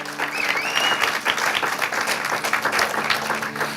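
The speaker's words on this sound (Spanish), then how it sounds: "¿Por qué no le da un aplauso al Señor?" A church congregation applauds together in a dense, sustained burst of clapping that carries on for the whole stretch, with a few voices calling out faintly underneath.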